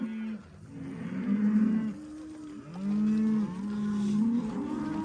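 Several cows moo in a corral, long low calls overlapping one another at close range, with a few separate bellows rising and falling over about five seconds and no talking.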